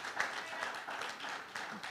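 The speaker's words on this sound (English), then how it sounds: "Come on, give her a round of applause." A church congregation at a Sunday morning worship service claps for the First Lady leading the service, a soft, scattered patter of hands heard at a distance with faint murmurs mixed in.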